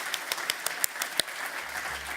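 Scattered, moderately close handclaps from an awards night audience for young filmmakers, a sparse uneven rhythm of individual claps rather than a full ovation, with a low hum creeping in at the end.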